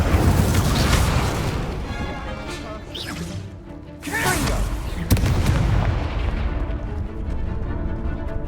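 The Incendio fire spell in Hogwarts Legacy: several forceful whooshing bursts and cracking impacts over a steady, dense background of game noise, with one sharp snap standing out near the middle.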